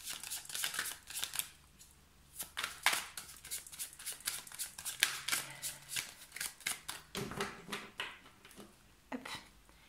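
Tarot cards shuffled for a reading, close and fairly quiet, with repeated riffling bursts and sharp flicks in an uneven rhythm over about ten seconds.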